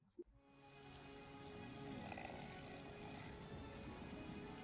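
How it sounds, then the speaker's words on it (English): Steady rain patters continuously, a soft even hiss of drops close by, with a brief bump at the start. "I love rain, man."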